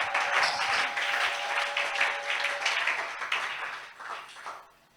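A church congregation applauds together during a service, a dense, steady wash of clapping that fades out near the end.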